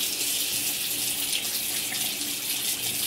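Tap water runs steadily into a bathroom sink, a continuous bright hiss close by with no talking over it.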